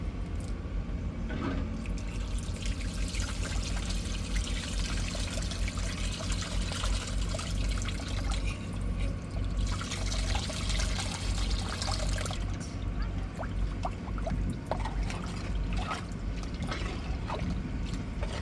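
Tamarind water pours into a pot of fish curry with coconut, salt and spice powders, a long steady stream of trickling liquid, close and continuous with brief splashy swells.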